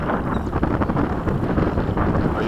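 Strong, gusty wind buffets the microphone at a model jet airfield where Freewing 90mm F-15s fly in high winds, a steady close roar that swells and dips with the gusts.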